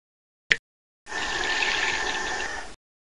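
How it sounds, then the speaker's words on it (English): A click, then a faucet runs water into a graduated cylinder in a lab simulation, a steady gushing stream for under two seconds before stopping abruptly. "click the faucet and fill the graduated cylinder to about 65 milliliters"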